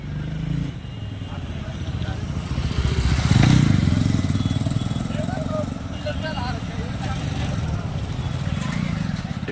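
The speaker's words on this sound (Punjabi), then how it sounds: "ਉਸ ਪੁਲ ਉੱਤੋਂ ਦੀ ਲੰਘਣੇ ਸ਼ੁਰੂ ਹੋ ਗਏ ਨੇ" Motorcycles cross the Multania bridge in Bathinda, their engines buzzing and swelling as they pass nearby, with a voice talking over the traffic throughout.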